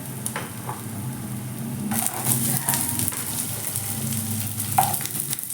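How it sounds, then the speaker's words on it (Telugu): Peanuts and ginger pieces frying in a pan while making a ridge gourd curry, giving a steady close sizzle with intermittent scraping and stirring clatter throughout, no talking. "పల్లీలు వేగిపోయాయి కదా ఇందులోనే కొంచెం అల్లం ముక్కేసుకుందాం"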